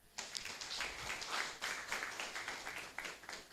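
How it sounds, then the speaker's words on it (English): Audience clapping at a career fair as a volunteer is called forward, a steady patter of many hands, moderately close, lasting the whole stretch with no talk over it. "Please clap for her."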